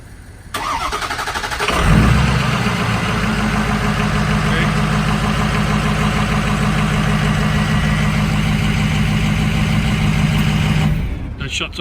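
A Ford F-250 pickup cranks over on remote start and settles into a steady, loud idle that runs close by for several seconds before shutting off.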